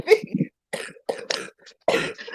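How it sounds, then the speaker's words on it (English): Several harsh, wet coughs and throat-clearing bursts from one person, close and loud, coming in irregular clusters separated by short silences. "I just coughed up a chunk of phlegm"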